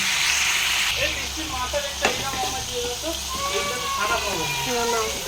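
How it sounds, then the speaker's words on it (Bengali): Potatoes fry lightly in hot oil with a continuous soft sizzle and occasional crackle, while a person talks over the cooking. "এখানে আলুগুলো ফ্রাই করে নেবো হালকা করে ওই তেলটাতে"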